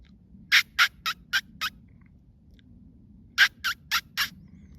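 A person imitates a vole call to lure owls, making sharp, squeaky bursts in two groups, five quick calls and then four, close and loud over faint background noise.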